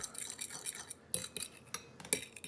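Eggs and chives whisked in a bowl, quick faint rhythmic clinks and taps of a utensil against the sides in short uneven bursts.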